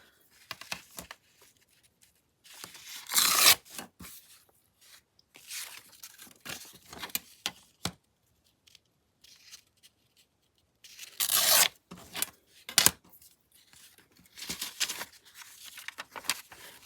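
Craft material trimmed by hand: scattered quiet rustles, crinkles and short tearing or snipping bursts with pauses between them, close by.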